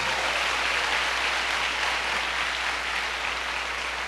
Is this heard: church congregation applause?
yes